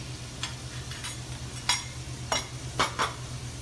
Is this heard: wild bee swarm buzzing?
no